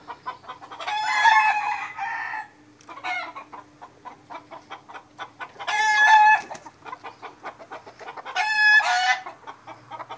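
A rooster crows loudly three times, spaced a few seconds apart, with rapid rhythmic clucking and tapping between the crows.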